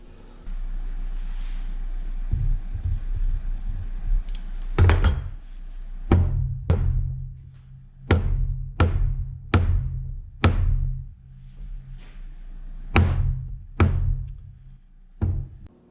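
Spacer bushings are hammered into heated sprockets during a Brutus power roller repair, a series of sharp metallic taps and knocks in irregular clusters, close and loud over a faint background hum.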